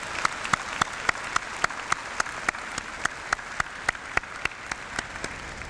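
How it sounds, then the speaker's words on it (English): Graduates at a university convocation ceremony applaud themselves, with a moderate crowd clapping under a series of sharp, regularly spaced louder claps that punctuate the steady patter from start to finish. "the graduates give themselves a big round of applause for what they've achieved"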